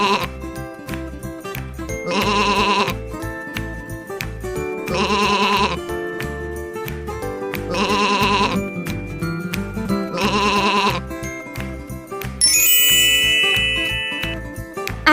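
A sheep bleats loudly and close in four long, wavering calls spaced about two seconds apart, each standing alone against a steady rhythmic backing, with a brief bright tinkle near the end.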